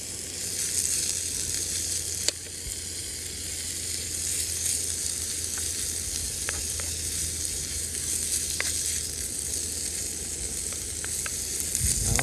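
Cleavers (Galium aparine) frying in a pan give a loud, steady hiss and crackle throughout, broken now and then by faint clicks as the greens are stirred around.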